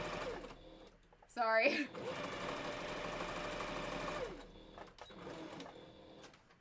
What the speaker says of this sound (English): whenever I'm sewing on the machine